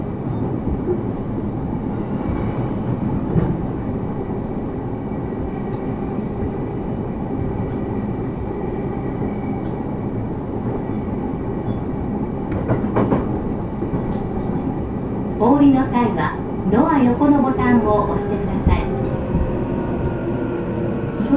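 Interior of an E233 series commuter train, car MoHa E233-623, running between Nakagami and Tachikawa: a steady loud rumble of motors and wheels with rhythmic clatter over rail joints growing busier toward the end.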